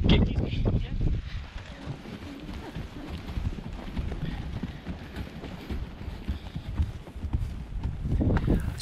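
Horse hooves clip-clop steadily on a ride along a cliff edge in Santorini, Greece, a continuous rhythmic patter mixed with wind noise throughout.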